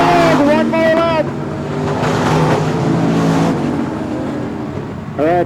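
Race cars charging down the back stretch at Texana Raceway Park during a summer showdown night: loud, roaring engines with rising and falling revs, heard under an announcer's excited commentary.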